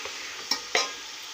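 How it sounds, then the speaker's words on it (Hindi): Beef trotters (paya) frying in spice masala, a continuous close sizzle broken by two sharp scraping stirs of a spoon against the pan. "ये जो हमने थोड़ा सा मसाला डाला है इसी में भूनेंगे पूरे 10 मिनट"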